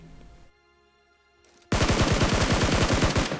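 Rapid automatic gunfire from a PUBG Mobile match, a loud sustained burst of fast repeated shots that starts abruptly after a quieter stretch of faint game ambience.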